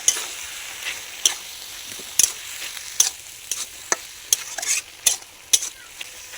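Mustard paste being stirred into amaranth stalks cooking in a pan, with repeated sharp scrapes and clacks of the spoon over a steady sizzle, close and clear with no talk.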